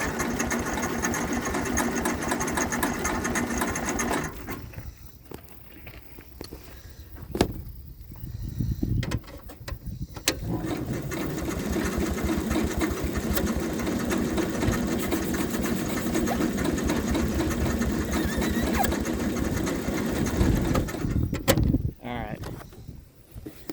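Cub Cadet 154 garden tractor engine cranking and struggling to start, a steady mechanical churn that drops out briefly twice and resumes, close and fairly loud with no talk over it.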